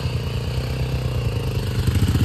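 A motorcycle engine idles and putters close by on a rainy group ride, its steady low throb rising slightly toward the end as if revving.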